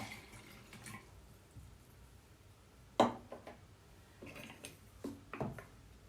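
Water poured into the pot of a Turkish coffee machine, quiet trickles and drips at close range with a brief louder splash, set against soft room noise.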